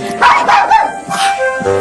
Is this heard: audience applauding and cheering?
no